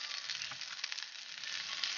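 Onions sizzling in hot oil in a pan while a Jaffna-style sambal is cooked: a steady, crackling frying hiss with small pops, moderately quiet and close, with no talking.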